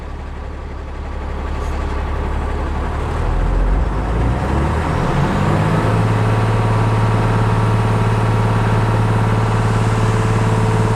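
A Tata BS4 truck runs in first gear on a jack with the parking brake released and a wheel spinning freely; the engine rises in pitch, then settles into a loud, steady drone.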